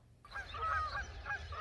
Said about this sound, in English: I just saw the geese fly over.